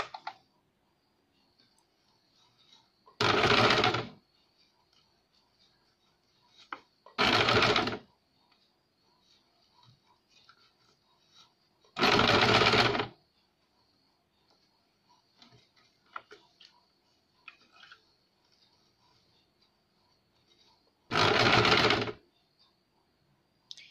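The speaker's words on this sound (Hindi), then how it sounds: "इस तरह से पूरी लेस में प्लेटें डाल के इसकी सिलाई लगाएंगे।" A sewing machine stitches pleated lace for fabric flowers in four short, loud whirring bursts of about a second each, spread apart by quiet gaps filled with faint clicks and fabric handling.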